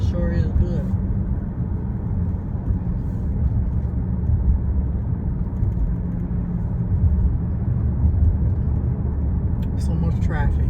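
Rush hour road traffic at 5 o'clock on a Friday forms a steady, low rumble of passing cars that runs throughout, heard from inside with a person talking over it.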